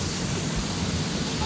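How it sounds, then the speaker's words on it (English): Small trickling waterfall in an outdoor setting where children are playing, heard as a steady, dense rush of splashing water close by, continuous and fairly even in level throughout. "So kids are enjoying the super mini waterfall."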